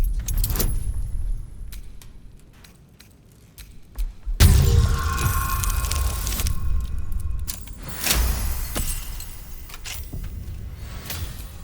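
A lock is picked in Baldur's Gate 3, with a quick jangle of metal picks and tools, then rattling and clicking against the lock mechanism. Scattered metallic clinks follow with a low rumble beneath, fairly close.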